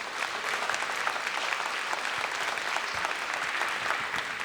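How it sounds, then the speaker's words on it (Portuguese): Congregation applause during a church gathering in Brazil, an even, continuous patter of many hands clapping, moderately distant and sustained throughout. "Vamos aplaudir o Senhor Jesus"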